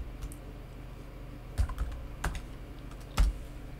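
Someone types a file name on a computer keyboard at a desk, with sparse, uneven key taps and a few louder thumps heard close by in a quiet room, with no talk.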